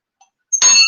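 A small hand bell rings once, bright and clear, sustaining with a ringing tail after a faint tick just before.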